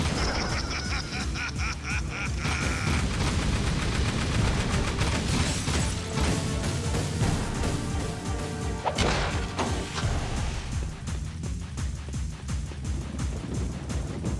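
Machine gun fire in the Jak 2 video game, dense and continuous bursts with crashing impacts and whooshes, loud and sustained throughout.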